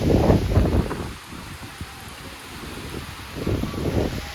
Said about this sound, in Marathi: भयानक पावसाचा वादळ वारा बेकार आले